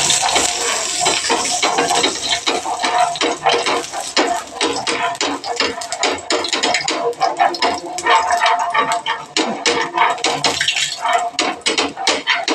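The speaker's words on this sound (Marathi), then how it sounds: "इथे तव्यावरती थोडंसं तेल टाकू पहिले." Oil is poured onto a hot tawa griddle, with a loud, steady, crackling sizzle broken by sharp metallic scraping and clinks throughout.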